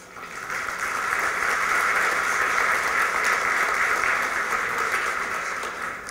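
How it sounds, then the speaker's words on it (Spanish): Sustained audience applause from a conference crowd, a dense steady wash of clapping that swells in and holds for about six seconds before tapering slightly, heard alone without talk. "para quien pido un fuerte aplauso."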